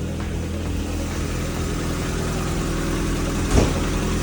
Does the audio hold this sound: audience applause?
no